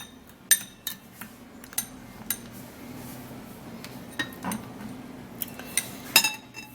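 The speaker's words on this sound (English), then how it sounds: "Okay, so you stir it up like this." A spoon clinks against a bowl while a homemade dark spot remedy mixture is stirred, a series of sharp irregular taps and scrapes, close and fairly quiet.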